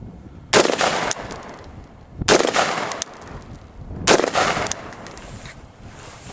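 Three loud, sharp rifle shots fired at a slow, even pace in extreme cold, each a sudden crack followed by a short ringing decay, spaced roughly two seconds apart with quiet outdoor ambience between.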